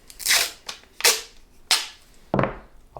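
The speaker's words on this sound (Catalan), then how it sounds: "agafem un tros de cinta" Adhesive tape pulled off a roll in four sharp ripping bursts spaced about two-thirds of a second apart, close and loud, with no talk.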